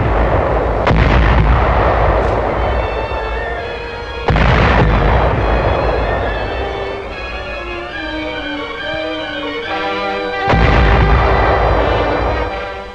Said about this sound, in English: The maneuvers are covered by the guns of a still powerful navy.